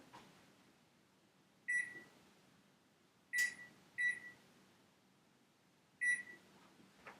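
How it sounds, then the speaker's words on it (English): A kitchen timer is set for brownies, giving four short electronic beeps at uneven intervals, quiet and close against a faint room hum, with no talking. "now I'm going to set my timer"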